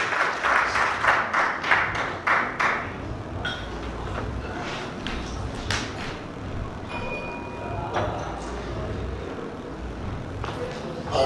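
An awards-ceremony audience applauds as a speaker steps on stage for the welcome address, clapping loud and dense at first, then thinning into scattered claps and room noise with a voice briefly heard.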